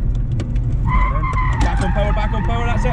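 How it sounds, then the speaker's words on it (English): A car drifts and spins around with loud tire squeal and skidding over a revving engine, close and continuous, with voices over it. "you just gave it a little bit too much gas, which then pivoted us all around"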